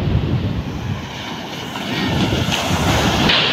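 Ocean waves washing onto a beach, a continuous roar and rush of surf mixed with strong wind buffeting the microphone.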